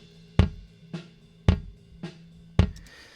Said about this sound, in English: The original kick drum actually sounds like this.